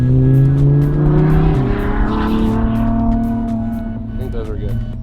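A car drives past close by, its engine loud and droning at first, then dropping in pitch as it passes and fades slightly, with a steady roar continuing and faint clicking on top.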